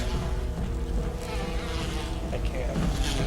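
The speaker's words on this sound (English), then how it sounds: "Stupid bees" Bees swarm in a steady, close buzzing drone in Resident Evil (2002), layered over dense game ambience for a few seconds without pause.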